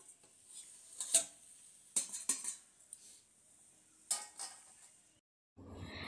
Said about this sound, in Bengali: এবার আমি এটা চাপা দিয়ে দিচ্ছি।